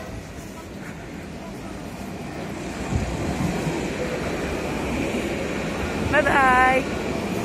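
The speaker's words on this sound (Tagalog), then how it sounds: "Ayan, may paparating na train. Approaching metro train." A metro train approaching a station in Jerusalem makes a steady, rumbling roar that swells, and near the end a rising squeal of wheels or brakes cuts in. A person talks over the noise.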